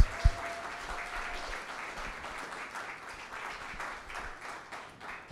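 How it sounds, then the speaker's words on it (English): An audience at a Boys & Girls Clubs annual recognition event applauds honorees, a dense, even wash of clapping that holds steady throughout. "Let's give all of our honorees one more round of applause."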